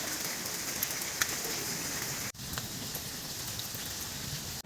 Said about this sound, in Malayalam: ഇപ്പോൾ പെയ്യുന്ന മഴയുടെ കാരണഭൂതൻ രാവിലെ കണ്ട മഴക്കാറാണ് എന്ന് ഞാൻ വിശ്വസിക്കുന്നു